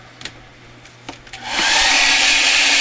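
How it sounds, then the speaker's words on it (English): A few light clicks and handling taps, then a hair dryer switches on and blows loudly and steadily over a watercolor painting, a close, constant rushing whoosh to the end. "Let me dry this real quick."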